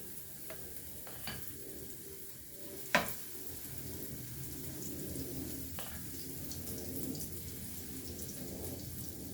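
Potato fritters (koekies), a Ramadaan treat, frying in hot oil: a steady, close sizzle runs throughout, broken by a few sharp clinks and taps from a utensil, with no voices.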